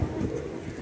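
Pigeons on the steps of Batu Caves in Kuala Lumpur, a single soft, low coo close by, heard alone against a dense outdoor background.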